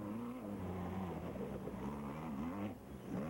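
A Raceco VW off-road race car competing in the 1988 Parker 400 desert race drones and revs, its engine note rising and falling steadily at moderate distance with no voices over it.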